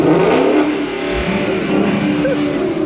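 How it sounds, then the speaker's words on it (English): Car engine revving outdoors, a loud continuous roar that swells and holds with street noise around it. "Rev it. Let me hear it."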